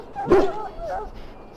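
An injured dog in the video game Dragon Age: Origins lets out a short yelp that slides into a thin, wavering whimper, close and brief.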